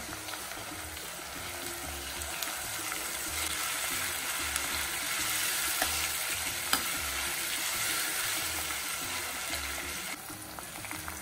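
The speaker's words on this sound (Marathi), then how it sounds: "आलं लसूण टाकणार आहे, म्हणजे ते पण आपलं छान परतून होईल" Ginger garlic paste frying with onions in a pan for veg biryani: a soft, steady sizzle with periodic stirring scrapes and a few clinks, close by and fairly quiet, with no talking.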